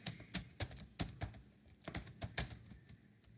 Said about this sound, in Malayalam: ഇപ്പം നമുക്കൊരു ഇത് ടൈപ്പ് ചെയ്യാം